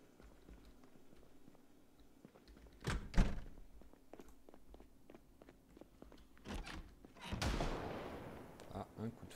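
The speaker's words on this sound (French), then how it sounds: "Ah, un coup de feu." A few sharp, loud cracks stand out against a quiet background of soft thumps and clicks, gunshots in the zombie survival game Project Zomboid.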